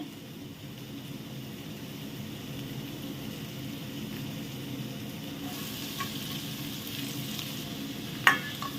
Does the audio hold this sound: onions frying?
yes